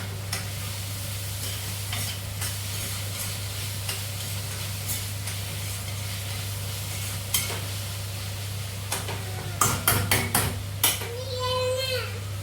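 Salted tomatoes frying in a pan: a soft sizzle with regular spatula clicks and scrapes over a steady low hum, with brief voices near the end.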